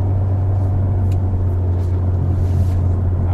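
A Hyundai Veloster N engine in Sport Plus mode revs during a heel-toe downshift, heard as a steady, loud low drone from inside the cabin that holds its pitch with no talk over it.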